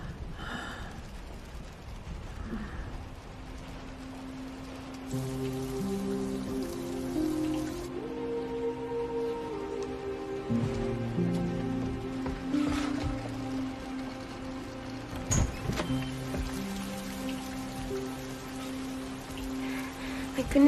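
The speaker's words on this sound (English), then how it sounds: "It's starting to rain." Rain falls steadily throughout under a dramatic movie scene, with a musical score of held tones swelling over the patter and a brief sharp sound near the middle.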